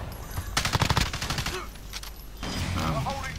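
Rapid bursts of gunfire in the video game Modern Warfare multiplayer, several close volleys with short gaps between them, with a voice talking over the action.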